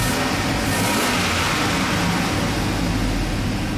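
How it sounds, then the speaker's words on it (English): A Chevrolet Express van engine, being checked for a charging system fault, revs steadily with a broad, constant mid-range drone held at even loudness throughout. "Let me rev it up a little."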